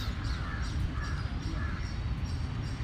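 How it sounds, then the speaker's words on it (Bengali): Birds call from trees beside a small canal near a temple, with crow-like caws and brief calls scattered over a constant outdoor hiss. The calls sound moderately distant. "চারিদিকে শুধু পাখির আওয়াজ"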